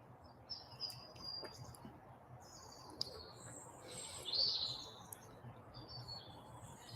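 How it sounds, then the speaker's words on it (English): Faint birdsong with scattered high chirps and tweets over a low steady background rumble, fairly distant and sparse. "Listen to the birds."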